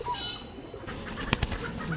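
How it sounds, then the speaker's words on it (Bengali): Sapchila pigeons kept and flown from a home loft make brief bird calls, then a quick burst of fluttering and sharp wing claps close by. "এরপরে দেখাবো আরও এক জোড়া সাপচিলা কবুতর, আমার বাসায় ফ্লাইং করা কবুতর।"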